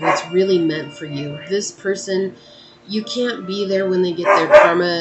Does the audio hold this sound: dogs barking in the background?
yes